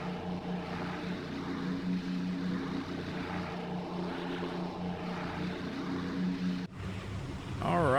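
Steady droning hum of the four-engine B-24 Liberator propeller bomber in flight in a flight simulator mod, a constant layered engine tone throughout, with a voice talking over it and a sudden shift in the sound near the end.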